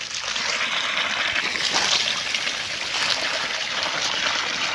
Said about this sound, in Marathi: त्या काजूच्या झाडाला पाणी देतोय